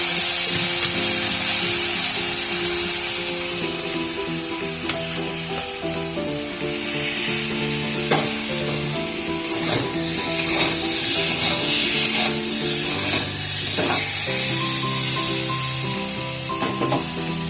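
Steamed papaya and potato fry in a wok with a continuous sizzle and scraping stirs, heard under steady background music.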